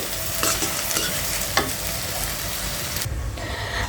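Snake gourd fried with egg in a pan gives a steady close sizzle with brief stirring scrapes, cooking alone without talk.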